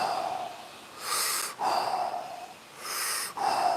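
Heavy, rhythmic breathing during a timed breathing exercise round, with two forceful breaths drawn in and pushed out in about four seconds, close and fairly loud with no talking.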